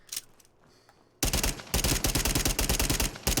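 A Glock pistol with a 50-round drum rips through a long rapid automatic burst in a Fallout 4 mod, loud and close, following a short quiet lead-in.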